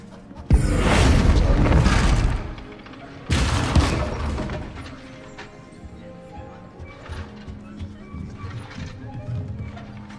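Confringo blasting curse explodes in Hogwarts Legacy, a loud broadband blast lasting about two seconds, then a second shorter burst, fading into a quieter game soundscape with faint background clatter.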